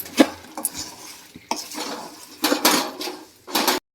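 Flour and jaggery stirred in a metal pan make several bursts of scraping and clattering spoon strokes against the pan, close and fairly loud, with short pauses between and no talk.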